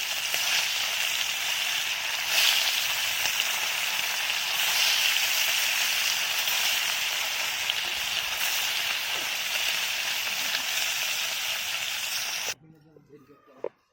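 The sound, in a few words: fish frying in hot oil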